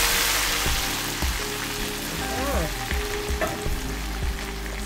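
Curry leaves frying in boiling oil for a simple mutton curry, a steady close sizzle and crackle with a few spoon stirs and pops, no talk.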